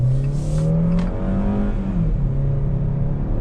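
A Jeep Renegade engine revs hard under full throttle with the automatic in drive, its steady loud drone climbing in pitch, dipping briefly at a shift and rising again, close and alone.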